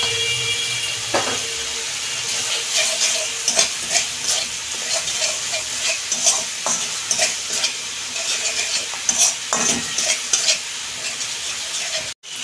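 Spices being stirred and fried in a pan for a fish curry with cauliflower and potato, with black pepper and salt added. A steady close sizzle runs throughout, broken by frequent scraping strokes of a spoon against the pan.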